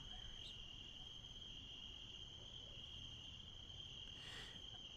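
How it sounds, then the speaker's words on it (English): Crickets chirp in a steady, continuous trill at night in Minsk, Belarus, a constant high whir running through the whole stretch with low background rumble beneath. "crickets that you're hearing"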